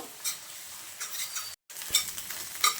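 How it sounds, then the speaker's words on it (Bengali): An egg fries in hot oil, giving a soft, steady sizzle with a few spatula scrapes and a brief dropout partway through. "তেলটা গরম হয়ে গেছে, এখন আমি ডিমটা দিয়ে দিচ্ছি।"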